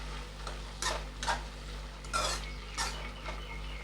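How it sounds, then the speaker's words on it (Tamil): Vegetables including brinjal being stirred with salt and turmeric for Tirunelveli-style aviyal, a handful of soft scraping strokes spaced about half a second apart over a low steady hum, close and fairly quiet. "இந்த காய்கறிக்கு தேவையான கொஞ்சம் உப்பு, கொஞ்சம் மஞ்சள் பொடி போட்டு நல்லா கிண்டி விட்டுட்டு"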